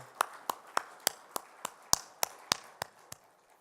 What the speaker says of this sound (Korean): 우리 다시 한번 박수할까요?